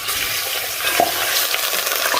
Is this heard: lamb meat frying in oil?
yes